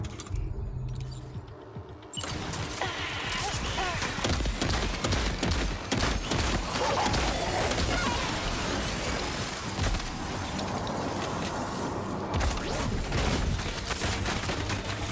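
Gunfire in the video game Death Stranding 2: a sustained barrage of rapid shots and clattering impacts, loud and dense, running for many seconds after a brief quieter opening.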